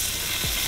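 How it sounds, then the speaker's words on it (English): Prawns frying in a hot pan with oil, chili, pepper and lemon juice give a steady, close, dense sizzle that runs without a break for the whole short moment, with no voices over it. "I'll let them sizzle away."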